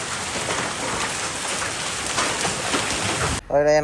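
A heavy hailstorm pelts a home with dense, loud, continuous drumming on surfaces. A voice cuts in briefly at the very end.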